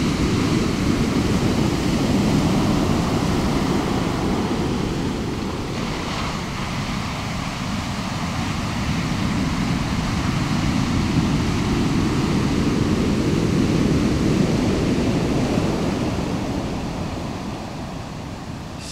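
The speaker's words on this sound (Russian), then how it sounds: "А вот волнуется море. И это не шторм. Это вот просто такой накат у берега." Sea surf rolls onto a remote wilderness shore in calm weather with little wind, not a storm. A continuous, full, close roar of breaking and washing waves swells and eases gently throughout, with no voices.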